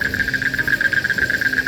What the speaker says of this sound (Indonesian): Ngedengerin suara tongeret, suara apa ini ya?